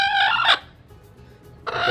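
A hen being set on a clutch of eggs gives a loud, close call, falls quiet briefly, then starts calling again.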